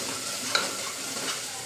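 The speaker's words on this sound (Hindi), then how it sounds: "अभी हमारा मसाला भूनते हुए 2-3 मिनट हो गया है।" Masala stir-frying in a pan, a steady close sizzle with a sharp scrape of the spoon partway through, no talking.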